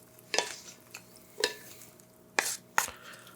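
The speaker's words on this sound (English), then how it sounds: "Now the garlic's breaking up and mixing with the tomatoes and the basil" Garlic stirred together with tomatoes and basil in a bowl, heard as four separate short scraping, clinking strokes spaced over a few seconds against a quiet background.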